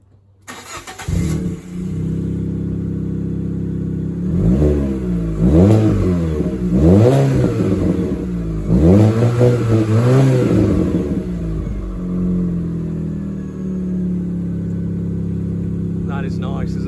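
Fiat Panda 100HP with a 1.4 litre petrol engine idling, then revved several times in quick succession with a rising and falling exhaust rumble, before settling back to idle. Close and loud.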